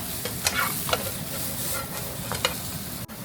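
Mushrooms and ham fry in a pan over medium heat, producing a continuous close sizzle with a few sharp stirring scrapes and taps, and no voices.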